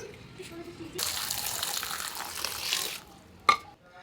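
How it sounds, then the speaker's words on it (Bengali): Halved broad beans being rubbed and washed by hand in water, a broad splashing, swishing wash of about two seconds, followed by a brief sharp clatter. "এইবারে ভালো করে কচলিয়ে শিমগুলোকে ধোবো, যেন ওদের গায়ে যেন একটুও মাটি না থাকে"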